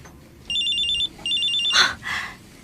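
Mobile phone ringing with an incoming call: two bursts of a bright electronic ringtone, each about half a second long, in a quiet room, followed by a louder rustle.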